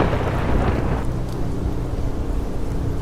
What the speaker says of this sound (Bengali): চারিদিকে আবারও সেই ঝড় বাতাস বিদ্যুতের চমকানি